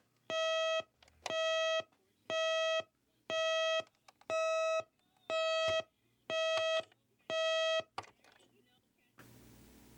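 A 1970s clock radio alarm sounds eight loud, electronic beep bursts in an even rhythm, each about half a second long with short gaps, followed by a brief rustling noise.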